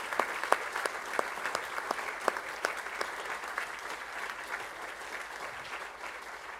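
Steady, dense applause from a conference audience fills the room, many hands clapping continuously with scattered sharper claps standing out, no voices on top.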